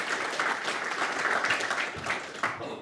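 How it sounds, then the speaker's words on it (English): Audience applause at a JavaScript meetup talk in Edinburgh: a steady burst of clapping from a room of attendees that trails off and thins out near the end. "Another round of applause."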